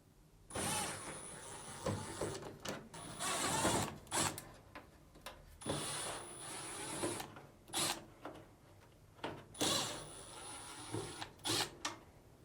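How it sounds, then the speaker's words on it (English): Screws being backed out of a Samsung dryer cabinet with a powered driver, several whirring bursts of a few seconds each separated by short pauses, close and moderately loud. "Now, remove these 4 Phillips screws."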